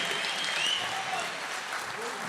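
Audience applause fills a musical concert hall at the opening of a tribute show, a steady dense wash of clapping at moderate level that holds evenly throughout.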